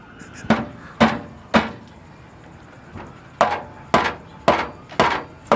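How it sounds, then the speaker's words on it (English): A heavy dead blow hammer strikes solidly about nine times in uneven bursts while fitting Ridetech suspension to a 1971 Camaro, each blow a dull, close thud with a short ring. "It's a dead blow hammer."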